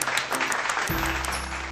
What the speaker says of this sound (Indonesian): sekali lagi tepuk tangan untuk kelompok 2 dan kita semua